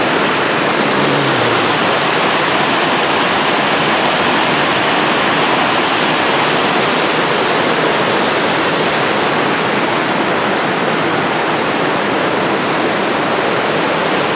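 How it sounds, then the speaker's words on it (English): A creek waterfall on the Appalachian Trail roars loudly and continuously, a dense, unbroken rush of falling water with no other sounds standing out. "And this is the waterfall"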